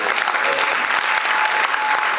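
Guests applauding during an official civil wedding ceremony at the Palais des congrès in Brazzaville, a loud, continuous burst of crowd clapping that stays close and even throughout.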